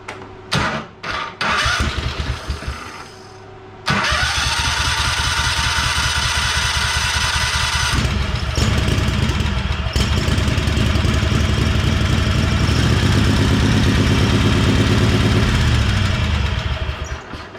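A small engine sputters through a few failed cranks, then catches and runs at a loud, steady idle, revving slightly near the end.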